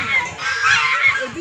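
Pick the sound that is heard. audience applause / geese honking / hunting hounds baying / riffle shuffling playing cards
geese honking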